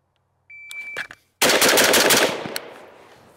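A Primary Weapon Systems MK114 rifle fires a quick burst of several shots from the high ready, loud and close, with a short pause before the rapid string and a fading tail after.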